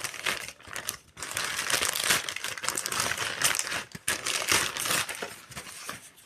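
Plastic packaging from a Meesho package holding a selfie stick tripod crinkles and crackles as it is unboxed, a dense, continuous rustle close to the mic with a couple of brief pauses.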